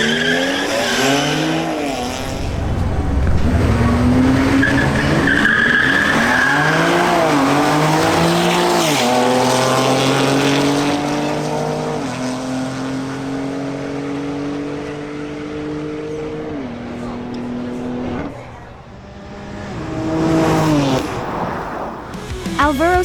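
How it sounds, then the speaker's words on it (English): A BMW X3 M Competition and a BMW M240i launch side by side in a quarter-mile drag race at a 2024 championship in Barranquilla, with loud engines revving, rising through gear changes and tires squealing, close by and sustained. "the Barranquilla 2024 quarter-mile drag racing championship"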